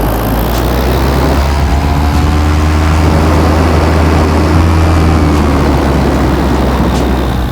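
A Scout Zero personal aircraft's engine and propellers hold a loud, steady, close drone. The pitch climbs slightly as the throttle comes up, and no talk is heard.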